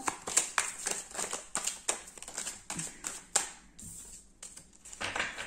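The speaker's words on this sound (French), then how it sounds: "remélanger bien les cartes" Playing or tarot cards being shuffled by hand, a run of quick crisp riffling snaps and taps in uneven bursts, close and moderately loud with no talking.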